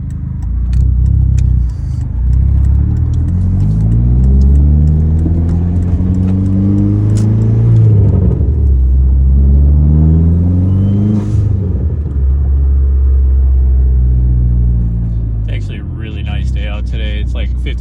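A Dodge Neon SRT-4 running on E85 drives at a loud, close, steady rumble, rising and falling as it revs and shifts, with a brief jingle of keys near the end.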